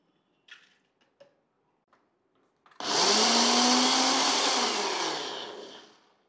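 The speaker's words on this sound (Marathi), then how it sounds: "आता ही भिजवलेली उडदाची डाळ पहिले आपल्याला कमीत कमी पाण्यात वाटून घ्यायची आहे।" Soaked urad dal is ground in a mixer grinder: a few light taps and clicks, then the motor starts abruptly into a loud, steady whirring roar that holds for about three seconds and winds down.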